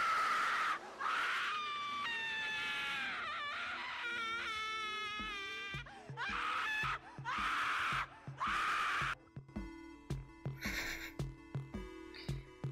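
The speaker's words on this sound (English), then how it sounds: "That scream really just" A scream from a Minecraft mod with a Catholic theme, a long wavering wailing cry that keeps going for several seconds in bursts before breaking into choppy, glitchy stuttering sounds.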